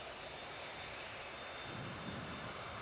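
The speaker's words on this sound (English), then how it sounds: "A350 of Virgin Atlantic on the way out." Virgin Atlantic Airbus A350 jet taxiing out at Manchester Airport, a steady broadband engine roar with a constant high whine, heard from a distance and continuous throughout.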